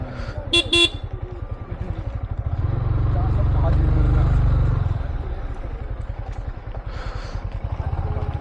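Car horns honk in a stalled traffic jam on a road near Baba Budangiri, short toots at the start and again near the end, over a steady engine rumble, with a voice talking throughout.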